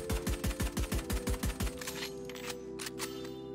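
A burst of about ten rapid, evenly spaced shots from the Ghost pistol in Valorant, loud and crisp, then a quieter tail of faint ticks and echoes afterward.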